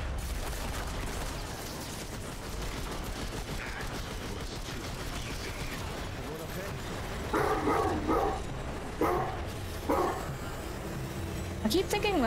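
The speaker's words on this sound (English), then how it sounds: "That's my dog in the game." A dog barks in short bursts in the video game Remnant 2, a few sharp yaps standing out late over continuous game noise and a player's voice.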